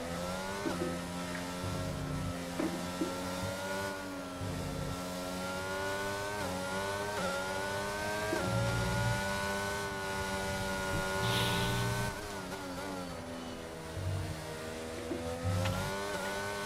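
Formula 1 race car engines in a racing video game at Abu Dhabi, steady high-pitched whining drones with shifting revs, several cars overlapping continuously at close range without talk.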